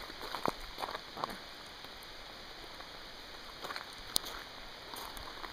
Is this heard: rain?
yes